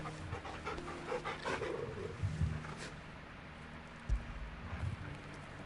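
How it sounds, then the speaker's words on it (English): Panting from a dog being petted in the video game Final Fantasy XVI, a soft, steady rhythmic breathing close by, layered over game ambience with a few brief louder thumps. "We're petting the dog."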